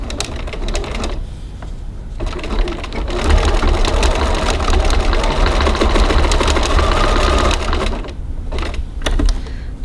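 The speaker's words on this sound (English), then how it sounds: "now we're going to go over to the sewing machine and just baste those on" A sewing machine bastes strap tabs onto a bag with a 1/4-inch seam, running loud and close in a steady whirring stretch, with shorter stop-start bursts before and after.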